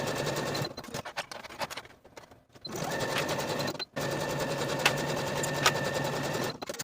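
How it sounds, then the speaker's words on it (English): A sewing machine sews tee shirt side and shoulder seams with a 3/8 inch allowance, running in steady close bursts of rapid stitching broken by short pauses. "Then we'll sew our side seams and the shoulder seams with a 3/8 inch seam allowance"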